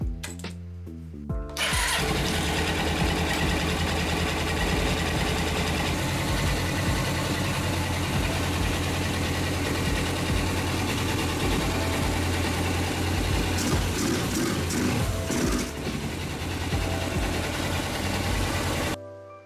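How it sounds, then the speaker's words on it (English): A small motorcycle engine starts up and settles into a steady, loud idle that runs continuously without pause. "start the engine and let it run until it dies"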